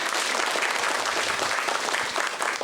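Stand-up comedy improv audience claps steadily, a dense and even burst of applause filling the whole moment without any talk over it.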